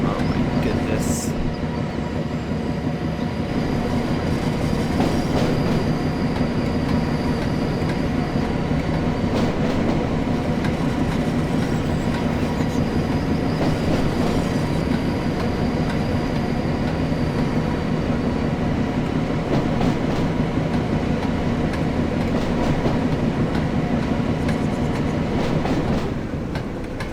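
Box wagons trail a Class 08 shunter in a train simulator game on the West Coast Main Line, with a constant close rolling rumble and periodic wheel clatter throughout.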